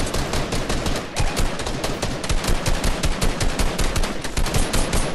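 Rapid automatic gunfire from the Fortnite Chapter 2 video game, a loud continuous burst of rattling shots that fills the whole stretch without pause.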